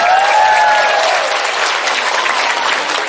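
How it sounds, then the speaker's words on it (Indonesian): An audience claps loudly and continuously at an open house gathering at an Islamic boarding school, dense sustained applause from a large crowd with a brief whistle-like tone early on. "Tepuk tangan."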